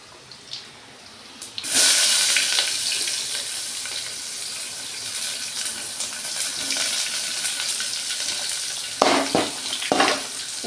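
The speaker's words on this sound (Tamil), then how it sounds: "பூண்டு கொஞ்சம் பொரிஞ்சிடுச்சு" Garlic sizzles loudly in hot oil in a pan, a steady bright frying hiss starting abruptly and holding throughout, with a few clinks and scrapes of stirring near the end.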